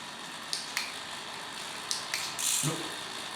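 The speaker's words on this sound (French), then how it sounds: "Et si tu peux changer les vitesses, pour que moi, je puisse peaufiner le réglage" A SRAM eTap electronic derailleur on a bicycle shifts gears in short, crisp mechanical clicks and whirs, several separate shifts spaced over a few seconds against a quiet workshop background.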